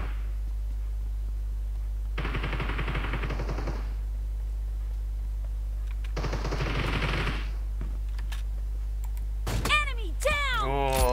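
Bursts of automatic gunfire in the mobile battle game PUBG Mobile, two rapid clusters of sharp shots a few seconds apart, followed by a brief shot and talking voices.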